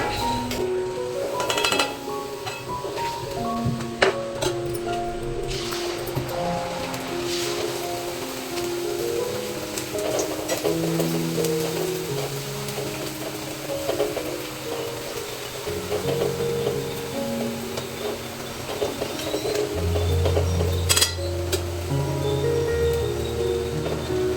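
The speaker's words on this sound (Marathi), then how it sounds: "आता सर्व पुऱ्या आपण अशाच तळून घेऊया" Sago puris frying in hot oil, a steady close crackle and sizzle of bubbling oil with occasional clinks of utensils against the pan, and no talking.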